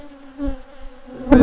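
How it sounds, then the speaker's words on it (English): Honeybees buzz around the front of a beehive during a queen excluder check, a steady tonal hum holding throughout with a louder, closer burst of buzzing near the end. "These bees are after me right now."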